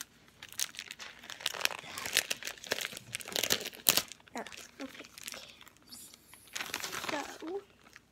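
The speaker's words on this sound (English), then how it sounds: "So let's unbox." Hydro Flask bottle packaging with a pink cap being unboxed close up, crinkly plastic wrapping rustled and torn in uneven bursts, with brief pauses between handlings.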